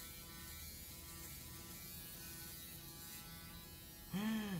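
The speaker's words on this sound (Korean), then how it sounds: "면도기 브라운." A Braun electric shaver runs with a steady, continuous buzzing hum, and a brief vocal sound rises over it right at the end.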